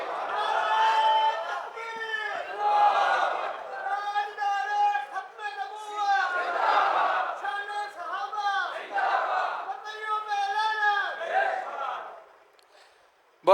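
A large crowd at a mushaira chants the Naara-e-Takbir slogan in loud, massed voices, with roughly five or six rhythmic surges of chanting before it cuts off.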